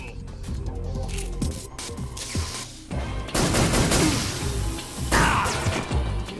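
Video game gunfire from Metal Gear Solid 3: Snake Eater HD, a loud run of shots and crashing impacts in bursts over game music and effects, with someone talking over parts of it.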